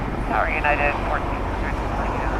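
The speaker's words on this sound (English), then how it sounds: "There we see Cayman Airways taxiing there to make a Southside departure." A Cayman Airways Boeing 737 MAX 8 taxis at LAX, its jet engines giving a steady roar with a rising and falling tonal whine. Muffled talk sits faintly underneath.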